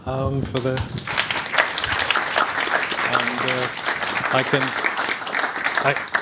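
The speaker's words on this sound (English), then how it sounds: "I'd like to ask for a round of applause for the panel." Audience applause for a panel at a European security forum, sustained clapping with brief voices and a few musical tones breaking through along the way.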